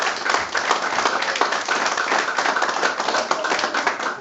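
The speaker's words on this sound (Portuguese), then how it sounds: "Vamos dar uma salva de palmas para o Espírito Santo de Deus." A church congregation applauds together in a worship service, dense continuous clapping from many hands, loud and close, with an uneven rhythm and no break across the few seconds.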